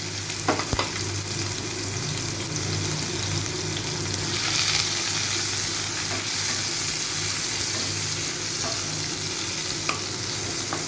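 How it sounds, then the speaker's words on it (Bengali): Finely chopped onions fry in hot oil, giving a loud, continuous sizzle with occasional stirring scrapes, heard alone throughout. "পেঁয়াজটা একটু ভাজা হোক।"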